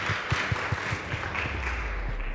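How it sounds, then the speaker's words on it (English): Audience applauding at a girls' schools debate competition result announcement, a brief patter of fairly faint scattered clapping from a modest crowd. "Please give them a round of applause."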